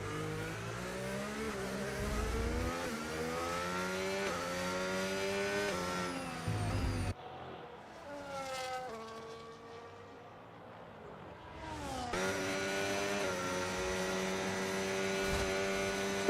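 An Aston Martin Formula 1 car in a racing game runs at the Shanghai circuit during sprint qualifying, its engine giving a continuous high tonal whine. The pitch climbs and drops with a brief dip in the middle, and no one speaks.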